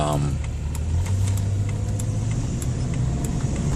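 A converted stealth camper van drives along a Florida road through a construction area, its engine and road rumble steady and close inside the cabin, with someone speaking over the drone.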